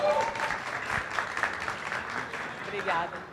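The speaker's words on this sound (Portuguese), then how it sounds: "palmas para ela" An audience applauds a speaker taking the stage at a Campus Party tech event: steady, dense clapping that holds at an even level throughout, with voices mixed in.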